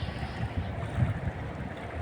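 Blustery amihan (northeast monsoon) wind buffets the microphone by the sea, a continuous low rumbling roar with gusty swells.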